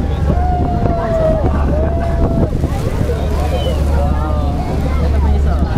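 Niagara Falls heard from aboard the Maid of the Mist boat: a steady, loud, wind-buffeted roar of rushing water and spray fills the whole stretch, with voices talking over it.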